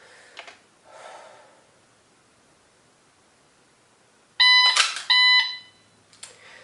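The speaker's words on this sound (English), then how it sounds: "The dot arrived in the window as the beep ended" A shot timer gives a sharp electronic beep during a dry fire drill. The beep is loud, close and split into two short bursts, preceded by faint rustling and handling noises.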